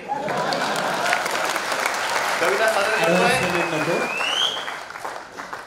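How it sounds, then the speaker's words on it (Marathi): Audience at a Marathi kavi sammelan in Aurangabad claps steadily for a poetry recital while someone speaks over the applause, which fades toward the end. "टाळ्या वाजवल्यानं काही बिघडत नाही."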